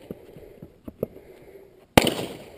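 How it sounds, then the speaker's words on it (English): Sharp gunshots fired during a shooting-academy workout drill: several faint, spaced pops early on, then a brief silence before one loud, close crack with a ringing tail. "The secret here is to shoot 10 times without taking an extra shot."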